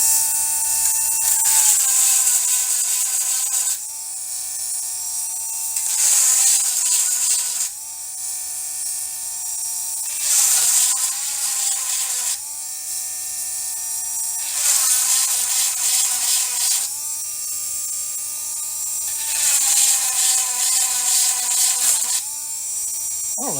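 A diamond bit grinds a chainsaw chain in repeated bursts of a few seconds each, a high, rasping electric whine that starts and stops about six times, close and alone with no talking.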